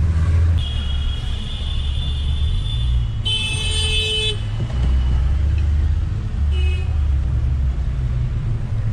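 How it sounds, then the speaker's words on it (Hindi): Dense city traffic in Delhi rumbles steadily while car horns blare in sustained toots, one long loud blast standing out, with other shorter honks nearby. "यहाँ पर काफी ज्यादा ट्रैफिक है, हॉर्न्स ही हॉर्न्स की आवाज सुनाई दे रही है"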